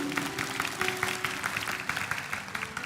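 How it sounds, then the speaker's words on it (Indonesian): Church congregation applause for God during a sermon, a fairly faint, hall-reverberant patter of many hands with scattered distinct claps and a low hum underneath. "Berikan tepuk tangan untuk Tuhan, haleluya"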